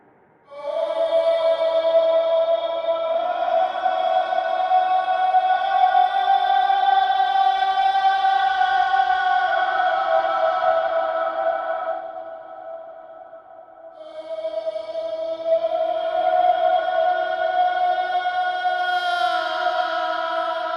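Sustained synth tones pass through XenoVerb, an iOS app's large hall reverb modeled on 1980s Japanese studio reverbs, leaving a long, lush, shimmering tail; the tone fades, dips, then swells back in, loud and alone.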